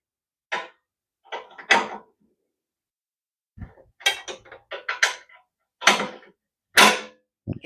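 A wrench works loose parts on a snowblower carburetor, making sharp metallic clinks, scrapes and clanks in short irregular clusters separated by brief silences, close and fairly loud.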